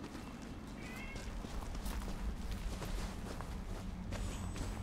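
A house cat meows a couple of times indoors, short vocal calls over faint room noise and light movement, fairly quiet and close by.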